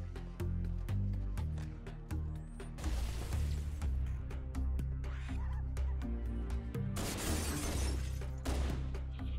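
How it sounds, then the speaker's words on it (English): Glass shatters in Halo: Combat Evolved Anniversary, two bright crashing bursts about five seconds apart standing out over a busy backdrop of game music and sharp effects. "I broke the glass!"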